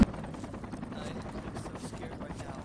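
Two helicopters flying overhead in the military shooter Project Reality, a steady low rotor drone holding through the whole stretch with rapid chopping texture, fairly loud and continuous with scattered game noise.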